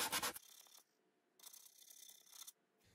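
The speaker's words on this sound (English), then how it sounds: "When you sand up and down like that, you're gonna leave a sanding line like that." Corner sanding pad rubbed over glued wood joints, two bursts of dry, hissing strokes separated by quiet pauses, close and fairly soft.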